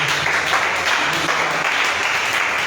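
Sustained, dense applause from a congregation at a church prayer night, loud and steady throughout with no pauses or speech over it.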